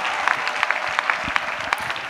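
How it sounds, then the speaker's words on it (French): A church congregation claps for Jesus during a prayer and intercession service, a brisk, steady burst of many hands applauding together. "Let's clap for Jesus"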